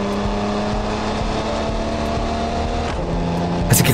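Monster truck in an offroad driving video game accelerating hard, a steady loud engine roar holding through the whole stretch with a brief sharper burst near the end; no one talks.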